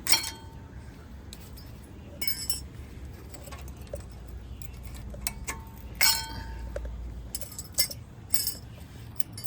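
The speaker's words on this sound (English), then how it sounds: "we are removing the old clips and putting the new ones in" Metal brake pad clips are handled while being removed and replaced on a 2019 Jeep Wrangler Unlimited's rear brakes, giving scattered light clinks and jangles at close range over quiet background noise.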